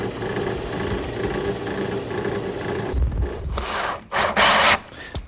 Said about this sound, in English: And then up above I want to drill a hole for the carriage bolt to go in.